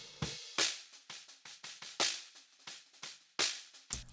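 A snare drum's bottom mic is heard alone with a large cut of low end, leaving thin, sizzling snare-wire hits in a steady pattern of accents and lighter strokes, quiet and close.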